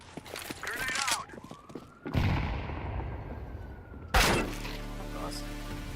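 A grenade goes off in a shooter video game: two loud, close blasts with crackling debris, the second followed by a lingering rumble, with a rising whine of game effects in between.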